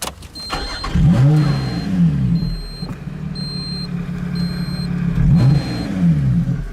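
A Lotus Exige S Roadster engine cranks and fires up close by, its rev rising in a sharp swell to a settled idle drone, then blipped once more into a second rising flare before easing back to a steady rumble; no talking.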